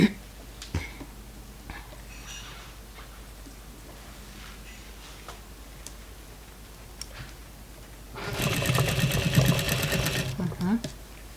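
An industrial sewing machine with a narrow presser foot stitches a patchwork quilt, running in a steady mechanical burst of about two seconds near the end after quiet handling sounds.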